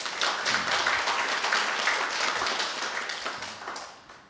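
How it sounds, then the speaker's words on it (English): An audience at a Buddhist Dharma talk applauds the volunteers with a full, lively round of clapping from many hands that stays strong and then gradually tapers off toward the end, with no one speaking. "Give them a round of applause"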